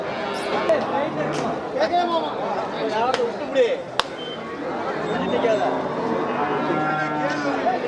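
Cattle moo repeatedly at the Melapalayam cattle market, where bullocks and other cattle are traded, with several loud, near calls overlapping a busy crowd of people talking in the background.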